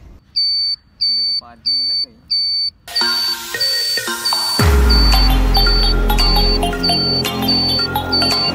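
A Komaki M5 Hi-Speed electric motorcycle's remote alarm gives a steady series of sharp, evenly spaced electronic beeps, loud and close, which continue while a heavy, low rumbling noise swells beneath them.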